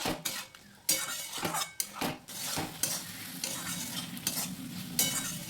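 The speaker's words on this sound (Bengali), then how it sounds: "দিয়ে দেওয়ার পর আবারও ভালো করে মিশিয়ে নিচ্ছি" Ground spice paste is worked into a pabda fish curry with potatoes in a pan, the spoon knocking and scraping the metal in repeated strokes over a gentle sizzle, close up with no talking.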